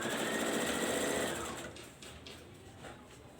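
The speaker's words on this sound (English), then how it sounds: "That is our second step that we take on the sewing machine." A sewing machine stitches fabric with a fast, steady whirring chatter that slows and stops partway through, followed by a few soft handling clicks.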